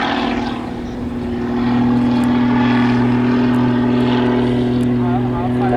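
Jet-powered Pitts aerobatic biplane performing a high barrel roll at the Southport Airshow, heard as a loud, steady engine roar with strong sustained tones, while a commentator talks over it throughout.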